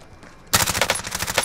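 Rapid automatic gunfire from an M16 in a shooter video game erupts abruptly after a brief quiet stretch, with loud, evenly spaced shots continuing in a steady burst.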